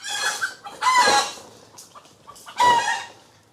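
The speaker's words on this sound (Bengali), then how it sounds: "উঠানের মধ্যে হচ্ছে অনেকগুলো রাজহাঁস রয়েছে আমাদের বাড়িতে" Several geese in a home courtyard give loud, close honking calls in three bursts, with short quieter cackles between them and no talking.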